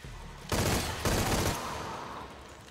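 Rifle gunfire in the video game Shadow of the Tomb Raider: two loud, sharp bursts of shots about half a second apart, each with a booming tail, then a long fading reverberant decay.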